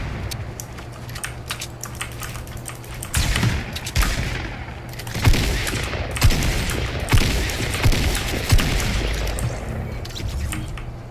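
Shotgun blasts and gunfire from the video game Fortnite, a series of heavy booming shots spaced roughly a second apart, mixed with rapid computer keyboard typing clatter throughout, loud and close.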